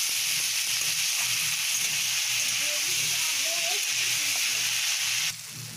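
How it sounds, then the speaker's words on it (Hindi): Tomatoes fry with potatoes in a pan for a spiced bottle gourd nimona, giving a steady, close sizzle under someone talking that cuts off abruptly just before the end. "इसी में साथ में अब मैं टमाटर डालकर भून लेती हूँ"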